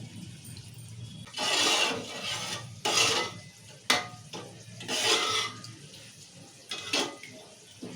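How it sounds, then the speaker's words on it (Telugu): Water pours in several separate gushes onto rice being cooked for chicken biryani, splashing loudly up close with short pauses between pours. "ఒక కప్పు రైస్ తీసుకుంటే ఒకటిన్నర కప్పు నీళ్ళు నీళ్ళు పోసుకోవాలి"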